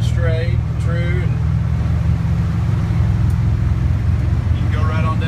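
A 1979 Chevy truck cruising down the road at about 70, a steady low engine and road rumble from inside the cab, with someone talking over it throughout.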